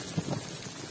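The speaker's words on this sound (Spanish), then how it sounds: "Este es el granizote." Hail falling during a storm, a steady faint patter like heavy rain with a couple of soft thuds, heard alone with no talking.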